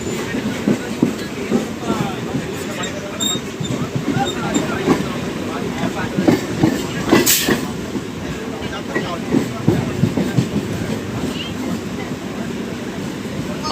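A local train travelling from Naihati to Sealdah rumbles and clatters steadily along the rails, heard from inside a compartment, with people talking over the running noise.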